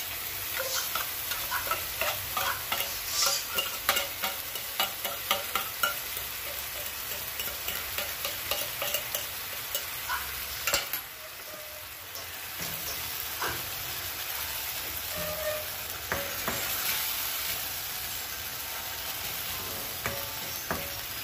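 Canned tuna sautéing in a pan with onion, garlic and tomato, a continuous sizzle with repeated stirring and scraping clicks of a utensil, close and steady, without talk.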